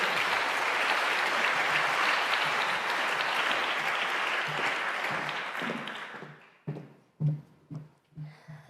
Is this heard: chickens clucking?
no